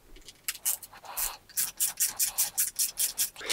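Screws are being worked out of a Ford 6000CD car radio from a Ford Fiesta Mk6 facelift, giving close, rhythmic scraping and grinding strokes in quick repeated bursts.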